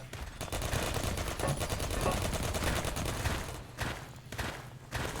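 Automated turrets in the video game Half-Life 2: Episode 2 fire in steady, dense rapid bursts, a loud continuous clatter of gunfire with a few brief pauses near the end.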